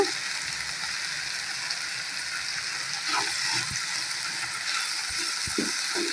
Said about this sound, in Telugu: కాస్త ఫ్రై చేసుకోవాలి కాస్త పసుపు వేసాను కొంచెం సాల్ట్ వేస్తున్నాను